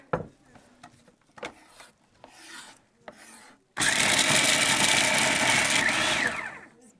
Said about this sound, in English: I want to puree this up a little bit.